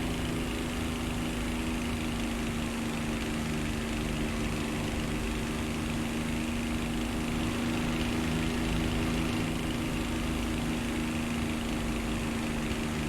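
An aircraft engine in the DCS flight simulator video game drones steadily with a strong constant hum and a buzzing whine, sustained and loud with no talk over it.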